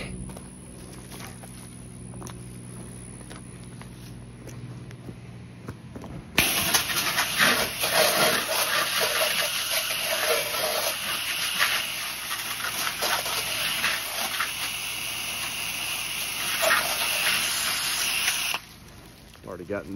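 An 8 GPM Pressure Pro pressure washer with 200 feet of high-pressure hose and an M5 twist nozzle: a low engine drone, then a loud, hissing high spray that bursts on and holds steady before cutting off near the end.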